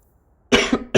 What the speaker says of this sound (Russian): клятый кашель